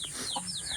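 Native chickens in a pen, a soft short cluck with faint chirpy calls over a steady background hiss, fairly distant and quiet.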